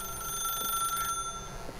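An old-style telephone rings inside the video game The Stanley Parable, a steady bell-like trill with no voices over it.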